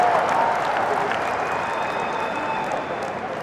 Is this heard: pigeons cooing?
no